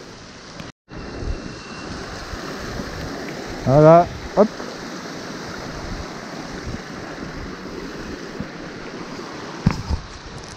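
A mountain stream rushes with a steady broadband wash along a mountain bike trail, close and constant, while a voice speaks briefly and a bike clatters now and then.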